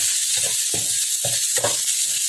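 Garlic sizzles in a hot pan while being stirred for a mussel and vegetable sauté, a steady bright frying hiss with soft rhythmic scraping strokes about every half second, close and alone.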